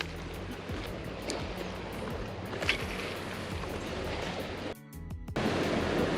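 Big waves on Lake Erie wash steadily around a fishing boat while it trolls slowly. The surf and water noise stays broad and continuous, with a brief dip partway through.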